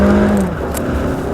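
A 2014 Mazda3 with a 184-horsepower engine accelerating at full throttle, a loud, steady engine drone and whir that holds for the whole moment with no talk over it.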